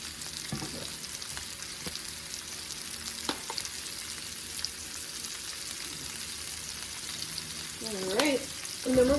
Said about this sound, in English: we're going to go ahead and cook this till just about 5 minutes, maybe 4 to 5 minutes, just till it gets brown